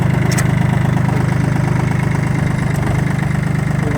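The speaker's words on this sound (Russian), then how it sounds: "трактор едет" A Kubota L18 tractor from a Japanese auction runs while driving, its engine giving a steady, loud, close rumble that holds evenly for the whole stretch with no talk.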